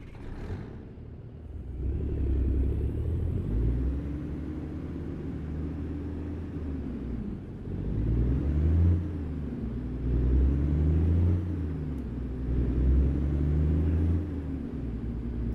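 Steady low rumble of a truck engine in a video game, droning continuously with slow swells in loudness over a long stretch, no voices.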